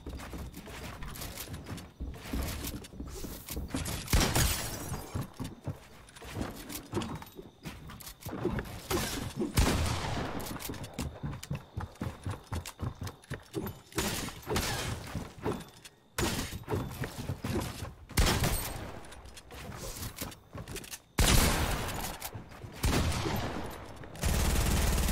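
Bursts of assault-rifle fire in the video game Fortnite, rapid volleys of shots repeating throughout with short gaps, loud and close, mixed with mechanical clatter.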